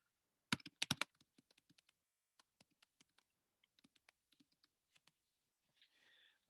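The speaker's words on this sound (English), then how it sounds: "got to type something" Computer keyboard typing: a few sharp, louder key strikes at the start, then sparse, light clicks spread out, close and quiet in an otherwise silent room.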